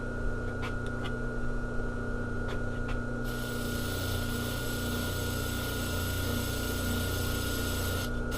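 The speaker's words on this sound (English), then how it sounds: "I'm going to take it over to the wire brush" A bench wire brush motor hums steadily, then a harsh broadband scraping rises as metal is pressed against the spinning brush to deburr it, continuing loud and unbroken.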